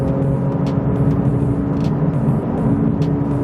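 A Porsche 992 GT3 engine drones as the driver drops down from seventh gear on a road. The tone is steady and close, with small flutters and a few faint ticks over it.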